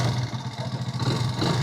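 A Thar vehicle's engine cranks without catching, a close, steady mechanical churn with clattering pulses and no voices over it.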